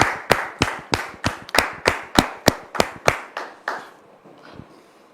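A studio audience greets a guest on a French-language talk show with brisk, rhythmic clapping: about a dozen sharp, evenly spaced claps in quick succession, then the beat softens and fades to a few faint taps.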